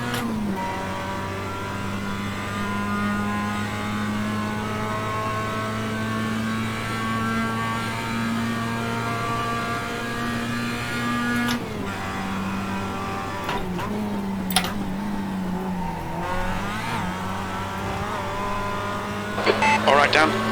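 Mazda MX-5 race car in the iRacing sim at the Charlotte Roval, engine droning steadily at high revs for most of the lap, then dropping and climbing through gear changes with brief tire scrubs near the end.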